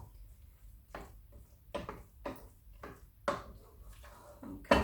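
Chopped chorizo is tipped into a pan for tomato risotto and stirred through. Scattered clinks, scrapes and knocks of utensil on pan come at irregular intervals over a quiet background.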